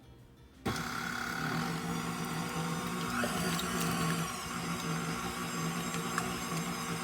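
A stand mixer with a paddle attachment mixing wet ingredients for cinnamon raisin bread, starting up with a click and then running as a steady motor whir and hum.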